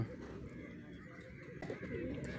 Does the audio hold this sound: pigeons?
yes